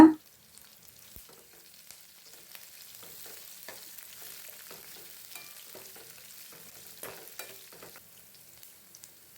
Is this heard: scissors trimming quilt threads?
no